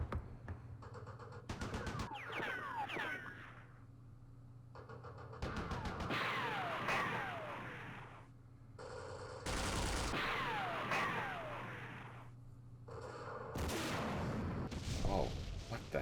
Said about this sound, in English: Aircraft machine guns.